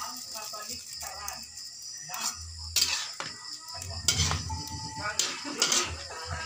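A spoon stirs and mixes adobo with peppercorns and bay leaves in a cooking pot, with irregular metallic scrapes and clinks against the pot and a soft sizzle underneath.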